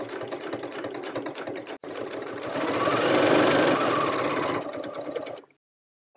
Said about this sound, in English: What I'm trying to do is I'm going to stitch right in the fold.